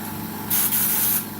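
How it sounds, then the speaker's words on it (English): A short, loud blast of compressed air from an air compressor nozzle hisses across a freshly woodturned piece to clear off dust, lasting under a second between quieter stretches of low room noise. "Let me just bring that air compressor towards me."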